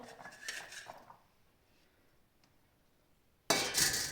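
Dishes clink as a small plate is handed over and set down while serving pasta at home, with a brief clatter at the start, a quiet pause, then a louder burst of crockery and cutlery noise at the end.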